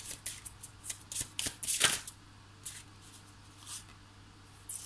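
Oracle cards being shuffled and drawn nearby, with quick papery riffles, soft slaps and flicks in uneven bursts, a few louder snaps among them.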